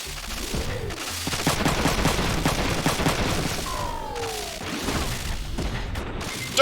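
Sustained rapid gunfire from a Front Mission 3 battle, dense bursts of shots and booms running nearly the whole stretch at steady loudness, with a brief mechanical whine midway.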